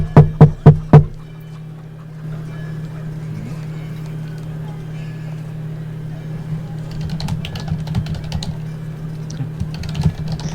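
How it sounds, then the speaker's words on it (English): Four sharp knocks on a locked door come first, then a long hush with a low hum. Faint, muffled keyboard typing follows from behind the door, scattered and irregular. "There's typing on the other side."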